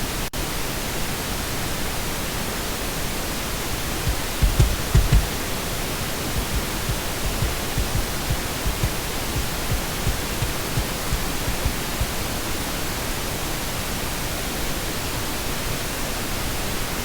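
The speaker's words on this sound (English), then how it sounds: "I'm about to bring in the pink noise and it doesn't sound very nice at all" Steady broadband pink noise hisses continuously for mix balancing, with a few soft low kick drum thumps faintly poking through near the middle, loud and unbroken, with no voices.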